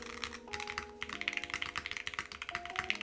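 Fingers typing on a Ducky One x Mini mechanical keyboard, quick irregular clacks with a thuddy bottom-out, close and fairly quiet, while a few steady musical tones hum underneath.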